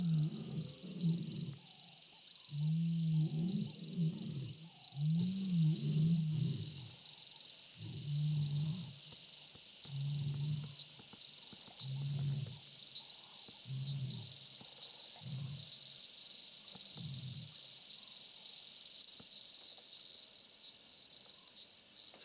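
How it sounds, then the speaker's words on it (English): Lionesses call at night in a series of deep, rhythmic grunting roars that fade and shorten over time, heard over a steady high chorus of crickets. "You can hear the lionesses calling behind me."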